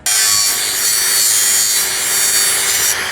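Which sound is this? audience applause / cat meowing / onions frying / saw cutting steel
saw cutting steel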